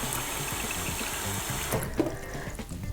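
Tap water running into a container to fill half a litre for brine, a steady splashing stream that abruptly stops partway, followed by a few small clinks and drips in a quiet kitchen.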